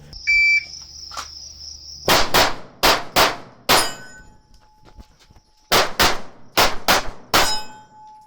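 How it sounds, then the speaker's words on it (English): A Springfield Hellcat Pro Comp compensated pistol firing full power defensive ammo at a range, sharp loud shots in quick pairs and bursts, ten in all with brief pauses, plus a high electronic beep from a shot timer at the start. "Right about 7 seconds for 10 rounds with some movement with full power defensive ammo in the brand new Springfield Hellcat Pro Comp"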